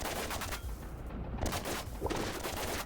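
Small arms gunfire rattles in a dense, continuous fusillade in the video game Psycho Patrol R, with rapid overlapping shots and booms filling the whole stretch.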